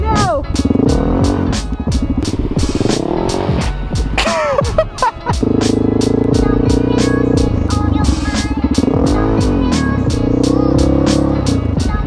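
A Yamaha Raptor quad's engine revs and drones loudly nearby as a novice rider tries to build speed, the pitch rising and falling with a brief dip, while people talk over it.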